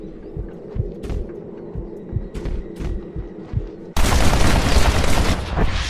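Gunfire in the Western video game Red Dead Redemption: a rhythmic series of muffled shots over a low hum, then a sudden loud, dense roar of blasts that fills the rest of the moment.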